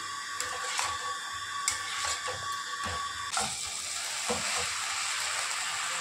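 A fish head and cabbage curry is stirred in a pan, with repeated scraping and clinking of the spoon against the metal over a low sizzle, irregular strokes close to the microphone.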